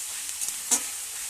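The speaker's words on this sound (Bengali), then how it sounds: "পেঁয়াজটা ভাজা হতে থাক," Onions fry quietly in a pan with a soft, steady sizzle, broken by a short scrape or clink of stirring; faint and close, with no voices.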